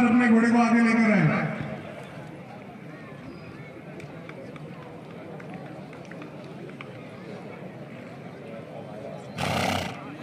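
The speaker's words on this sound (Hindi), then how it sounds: "जजिस के सामने नंबर अपने घोड़े को आगे लेकर आए" At a horse show ring, a horse gives a loud, close whinny at the start, followed by a running hoof rhythm, distant crowd murmur and a brief burst of noise near the end.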